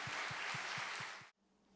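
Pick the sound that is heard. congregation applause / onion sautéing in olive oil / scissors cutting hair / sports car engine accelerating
congregation applause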